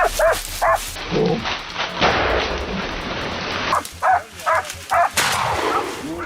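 Hunting dogs bark and yip at a wild boar cornered in dense trees, the barks coming in sharp clusters close by over a broad rustling noise.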